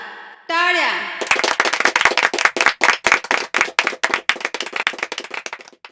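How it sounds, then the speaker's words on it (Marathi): Lively audience clapping at a village gathering welcoming a retired civil officer in a Marathi film, bursting in loud and close right after a brief spoken cue, then continuing as brisk, uneven applause that gradually thins out. "टाळ्या."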